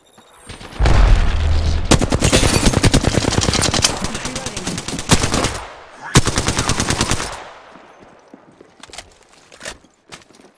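Heavy automatic gunfire in the battle royale shooter Apex Legends, long rapid bursts at close range, loud and dense, with a pause and a second burst before fading into scattered shots.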